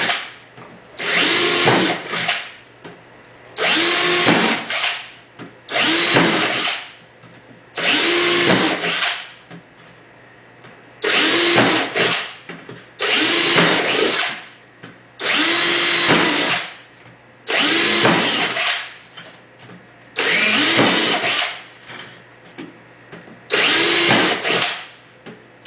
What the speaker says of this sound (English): I put holes with my trusty drill.